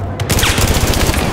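Rapid automatic gunfire from Battlefield 4 multiplayer, a loud dense burst of evenly spaced shots rattling continuously throughout, close and dominant.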